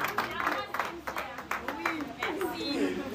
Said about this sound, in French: Bravo, applaudissons pour elle